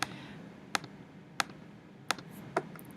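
Calculator buttons pressed one at a time, five crisp plastic clicks spaced irregularly, close and quiet over faint room hiss.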